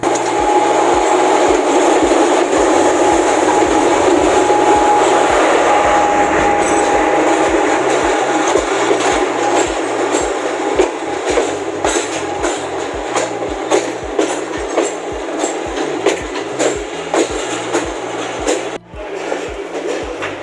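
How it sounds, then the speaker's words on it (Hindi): A Subak Kharam Express railcar runs along the rails between Lahore and Gujrat, giving a loud, steady rumble with repeated rhythmic clickety-clack wheel beats throughout, and no voices. "इस व्लॉग में मैंने कोशिश की है कि ज़्यादा से ज़्यादा ट्रैक साउंड जो है वो सुनाई जाए"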